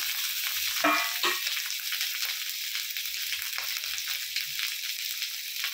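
Chopped tomato drops into a pan of frying cabbage and prawn curry, a close, bright hiss of sizzling oil with brief bursts as the pieces hit, settling into steady crackling with faint stirring.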